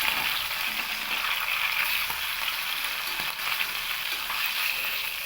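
Fish pieces rubbed with salt and turmeric frying lightly in hot oil, likely hilsa: a steady, even hiss of sizzling that carries on throughout with no talking.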